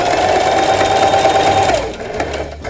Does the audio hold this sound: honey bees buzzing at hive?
no